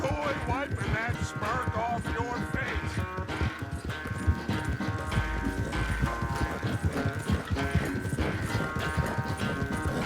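Horses gallop in a race in the Red Dead Redemption II game, a rapid, continuous clip-clop of hooves under constant music and game sound, with someone talking over it.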